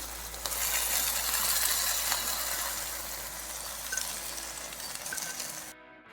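Chana dal frying in a pan for payasam gives a steady, close sizzle throughout, with a few faint metallic clinks, until it stops abruptly just before the end.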